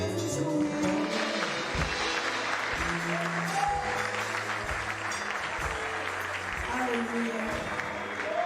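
Church congregation at a Sunday celebration service clapping in praise, sustained dense applause beneath loud music with held organ-like tones throughout.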